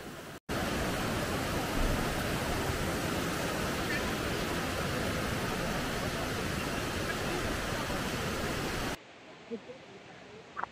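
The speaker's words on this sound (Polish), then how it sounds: "A ta woda to wylatuje po prostu spod ziemi." A loud, constant roar of water gushing out of the ground at Saklikent Canyon, Turkey, fills most of the clip, then cuts to quieter background with a few faint knocks.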